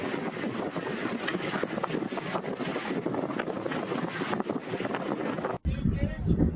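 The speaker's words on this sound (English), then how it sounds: "We're doing a beam reach, nearly a beam reach, with just the jib out." A sailboat on a near beam reach under the jib alone, in about 20 knots of apparent wind, gives off steady rushing wind and water noise, loud and close, with a person speaking over it before a sudden cut to a quieter scene.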